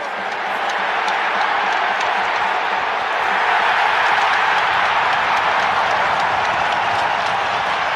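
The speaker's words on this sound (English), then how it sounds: "the crowd is going crazy" Hockey arena crowd at an NHL rivalry game roaring and cheering during a fight, a dense, loud, sustained wall of noise with applause mixed in, steady throughout and swelling slightly midway.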